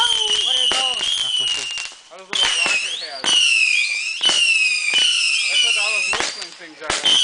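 Fireworks rockets whistle and burst in rapid succession at an outdoor fireworks party, with loud rising shrieks and sharp cracks close by and voices talking between them.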